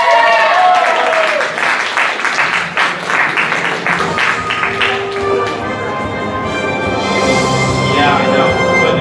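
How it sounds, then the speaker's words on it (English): An anime convention game-show audience applauds and claps with some scattered taps, fairly loud at first, then thinning as a tonal sound and crowd murmur take over. "Give them a round of applause, guys."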